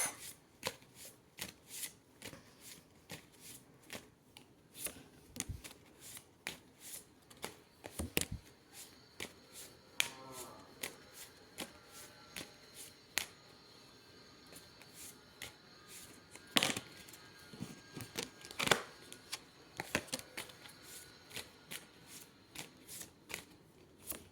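Tarot cards being shuffled by hand for a reading, a long run of crisp riffling flutters and sharp slaps, close and fairly quiet, repeating irregularly with no talk.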